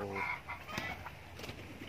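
Native chickens in a freshly repaired coop give a few clucks and a short crowing call near the start, followed by scattered softer clucks over low background noise.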